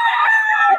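A rooster crows once, close and loud, a sustained strained call at a poultry market in Bocaue.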